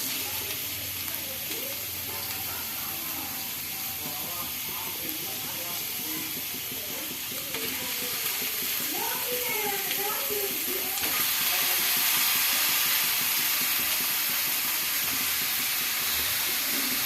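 Chicken sizzles and fries in a hot pan, a steady dense hiss running throughout with occasional stirring scrapes, while a voice speaks intermittently over it.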